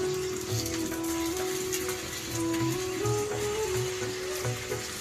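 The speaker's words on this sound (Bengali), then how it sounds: "পরোটাগুলো ভাজা শুরু করেছি" Aloo paratha, a potato-stuffed vegetarian flatbread, fries in a pan with a steady, close crackling sizzle that runs throughout, faint tonal hum underneath and no talking.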